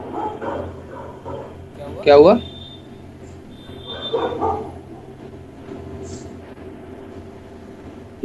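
A dog barks a few times in the background, one sharp yelp near the start and softer barks after, under someone talking.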